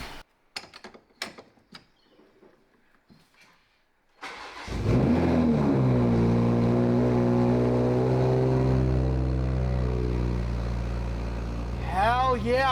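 A Toyota Supra fires up after a few clicks and rustles, the engine catching with a surge and settling into a loud, steady idle close by, with a voice briefly heard over it at the end.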